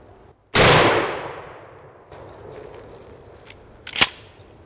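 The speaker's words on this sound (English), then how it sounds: "So let's go and see what our shotgun can do" A single loud shotgun blast fired at a target during a turkey hunt, with a long decaying echo, followed by a faint handling sound and a sharp metallic clack a few seconds later.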